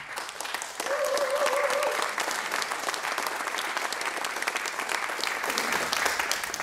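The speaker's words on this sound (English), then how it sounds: "Thank you for your applause and welcome." An audience at a college legacy award ceremony claps steadily for several seconds. The applause is dense and sustained, with a brief tonal sound early on.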